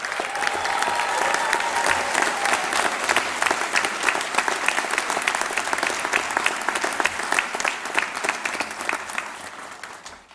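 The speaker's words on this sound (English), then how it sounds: "let's give them a big old round of applause" A large audience at a graduation ceremony in Falkirk Town Hall applauds steadily and loudly, dense clapping sustained throughout before tapering slightly at the end.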